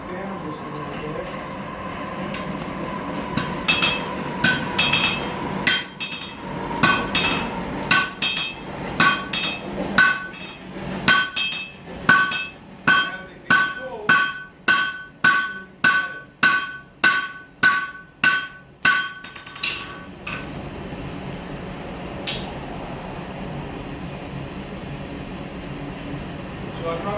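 A blacksmith hammers the head of a hand-forged nail, working only the head and not the shaft: a fast, steady run of sharp ringing metal strikes that builds in rhythm and then stops, with a softer clatter and shop noise around it.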